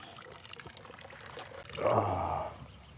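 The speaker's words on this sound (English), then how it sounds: "Morning protocol, fill all your water up." Water pours into bottles at a morning wild camp on the Alta Via 1 trail in the Dolomites, starting with faint trickles and then a fuller close gurgling stream for about a second before tapering off.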